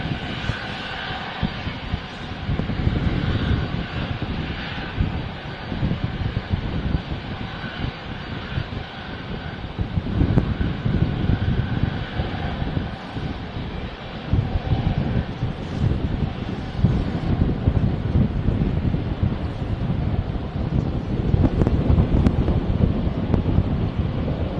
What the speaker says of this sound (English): Aircraft is now moving.